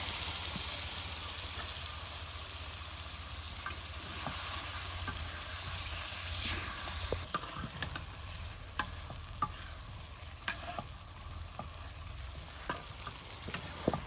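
Chicken meat sizzles steadily as it fries in a pan with spices, a broad continuous crackle with scattered sharp clicks and taps from stirring, close and fairly loud, no talking.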